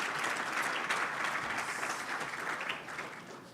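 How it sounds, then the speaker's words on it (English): Dense, sustained applause from an audience thanking a panel at a Smarties NEXT event, loud and even throughout before easing slightly at the very end; no one speaks. "Big round of applause."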